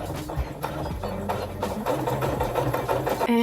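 A domestic sewing machine runs a shirring test at its longest stitch length, a continuous close mechanical whirring with a rhythmic chattering pulse of the needle, ending with a brief higher tone.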